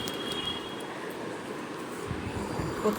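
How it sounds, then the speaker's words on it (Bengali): The Kanchankanya Express passenger train, running from Sealdah toward Siliguri, gives a steady, even rumble heard from on board, a continuous moderate drone with faint rattling. "কাঞ্চনকন্যা এক্সপ্রেসে আমরা শিলিগুড়িতে নামবো"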